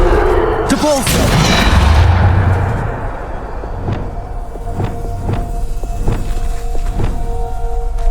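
Magical bombardment spell blasts in Hogwarts Legacy: a loud, dense burst of booming explosions at the start that fades into a rumbling tail, followed by a string of sharp, evenly spaced impacts.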